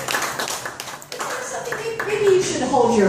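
Audience at a comedy show at Lucky Luciano's in Playa del Carmen claps and applauds steadily, a dense wash of many hands that builds slightly toward the end, with a performer's voice speaking over it.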